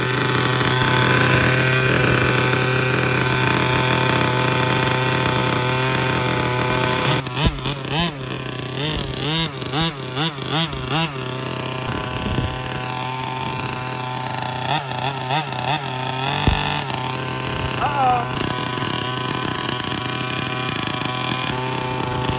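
7.5HP gas engine in an HPI Baja 5B RC car, revving loud and close with surging, stuttering bursts as it bogs, then dropping to a rough idle and picking up again.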